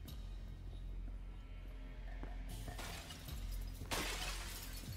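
Glass of a display case shattering during a heist in the video game Crime Boss Rockay City: two sharp, loud bursts of breaking glass about a second and a half apart, over a steady low game hum.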